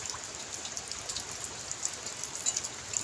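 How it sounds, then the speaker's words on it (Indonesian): Afternoon rain falling outdoors, a steady, faint, even hiss with scattered soft patters and no voices. "Kalau udah mau menjelang sore itu pasti hujan sahabat,"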